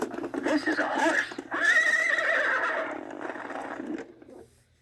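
Horse neigh from a Farmer Says See 'n Say toy, a loud electronic whinny lasting several seconds with a brief clip-clop start, played close and alone before fading out.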